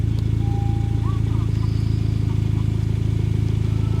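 A Honda CR-Z (ZF1) sports car with an aftermarket exhaust idles with a steady low rumble and even pulsing exhaust throb, continuous throughout.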